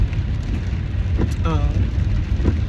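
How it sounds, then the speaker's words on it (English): Rain heard from inside a moving car, a steady wash of road and rain noise with faint drops on the body, and a voice briefly speaking over it. "I'm actually driving through the rain now."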